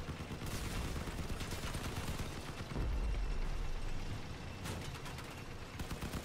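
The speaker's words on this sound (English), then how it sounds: "we got cannons involved here" Cannon and gun fire in the vehicle combat game Crossout, a continuous clatter of shots with a heavy booming blast near the middle, loud and without speech.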